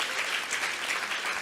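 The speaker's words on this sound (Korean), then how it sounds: "방금 일어난 일을 위해서 박수 쳐주시고" A church congregation applauds during a testimony service, producing a brief, even burst of dense clapping that stays steady from start to finish.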